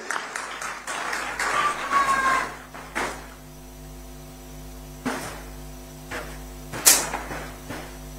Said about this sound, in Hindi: तो मैं पूरे सम्मान के साथ और जोरदार तालियों के साथ आवाज देती हूं संबोधन के लिए डॉक्टर मोहन यादव जी को